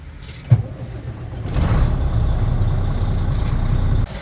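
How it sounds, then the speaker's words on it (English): A Volvo VNL780 truck's diesel engine cranks with a sharp click, then catches and settles into a steady, loud low idle that runs on for several seconds during air conditioning repair work. "Let's turn the truck on."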